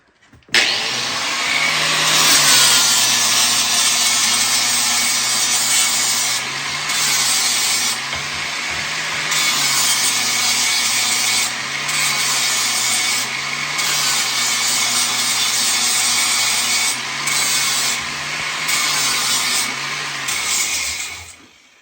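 A saw blade cuts through wood in a long, continuous, loud grinding rasp with a steady motor drone and brief dips in intensity, close by and without talk.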